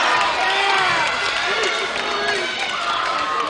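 A crowd at a varsity girls' high school basketball game roars and cheers loudly after a referee's call, a dense, continuous wash of voices in a gym.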